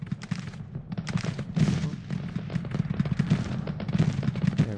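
Artillery blasts and musket volleys from a video game battle with skirmishers, dense rapid gunfire crackling continuously at moderate loudness, no talking.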